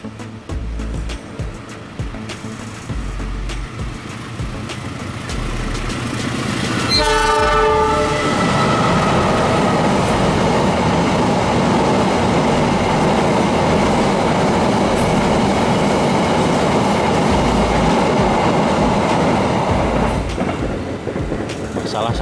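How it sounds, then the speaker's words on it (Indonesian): A freight train passes close by on a line between Yogyakarta and Klaten, rising from a rumble into a loud, sustained roar of rolling wagons with a brief horn-like tone and wheel clatter, continuing for most of the clip. "yang lewat barusan kereta api barang"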